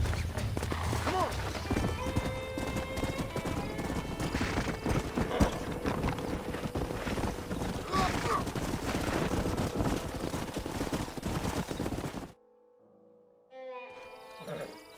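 Horses clip-clopping and neighing in a Western open-world game, hooves and whinnies mixed under game music, distant gunfire and talk, then cutting to near silence with a faint voice at the end.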